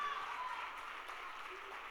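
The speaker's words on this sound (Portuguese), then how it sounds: "Você pode aplaudir ao Senhor." A church congregation applauds, a soft, even wash of distant clapping with a faint tone beneath.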